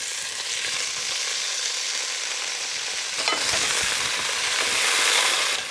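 Mushrooms fry in olive oil in a pan, a steady close hiss of sizzling that swells slightly as they are tossed and stirred, with no voices.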